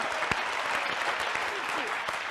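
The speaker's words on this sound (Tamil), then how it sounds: "பெரிய கைத்தட்டல் கொடுங்க" An audience at a comedy stage show claps loudly in steady, dense applause that fills the short stretch, with a few sharper claps standing out and faint crowd noise beneath.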